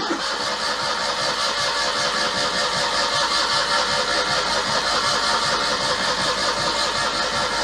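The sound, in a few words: Citroen 2CV engine starting after engine swap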